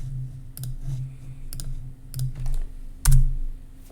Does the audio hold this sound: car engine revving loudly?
no